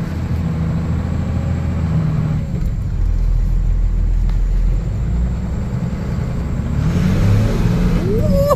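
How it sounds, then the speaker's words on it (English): A 12-valve Cummins diesel truck engine rumbles and revs under acceleration, a loud, deep, continuous drone from inside the cab that swells toward the end. "This is my first time driving a damn 12 valve Cummins. This mug got some power."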